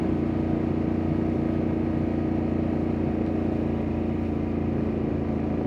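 A Ducati Panigale V2 S fitted with a full titanium Termignoni race exhaust idles loudly and steadily up close, a deep continuous engine rumble with no revving peaks and no voices.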